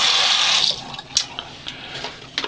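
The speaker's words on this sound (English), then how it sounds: "I have now filled this container up with fresh water." Fresh tap water rushes loudly into a container, a strong hissing pour for the first second that then eases into splashes and drips, with no one talking.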